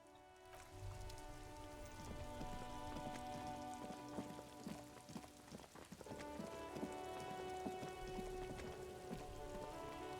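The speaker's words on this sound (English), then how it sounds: "This rain will not let up anytime soon." Steady rain falls in the video game Disco Elysium, a continuous close patter of drops over sustained tonal music that runs throughout without any talk.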